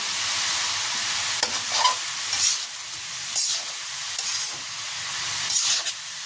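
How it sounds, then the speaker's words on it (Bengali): Finely chopped vegetables frying with mustard, seasoned with salt and turmeric, in a continuous hissing sizzle broken by several scraping stirs. "এভাবে কুচি কুচি করে কেটে সরিষা দিয়ে ভাজি করলে ভালো লাগে আমার কাছে"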